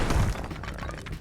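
A brief crunching smash in Spelunky 2, a short breaking shatter with crumbling debris that fades within about a second.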